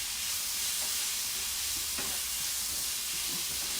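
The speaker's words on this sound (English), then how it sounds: "Salt, pepper, and then I'm going to saute this one." Vegetables seasoned with salt and pepper sauté in a pan, giving a steady loud hiss and sizzle with occasional soft scrapes and knocks as they are stirred.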